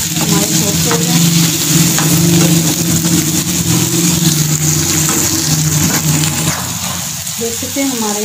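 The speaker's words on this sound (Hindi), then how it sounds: "ग्रीन चिली और पत्ते वाली मिर्ची डाल के हल्की आँच पे 3 से 4 मिनट के लिए पकाते हैं।" Onions, tomatoes and green chillies cook on a low flame, giving a constant close sizzle with faint stirring scrapes throughout, while a voice talks over it.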